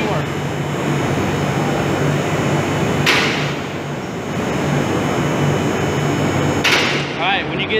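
A hydraulic two-post car lift raises a car with a steady loud motor hum and pump drone. Two brief hissing bursts break through it partway along.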